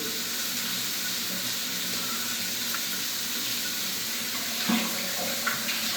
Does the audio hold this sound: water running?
yes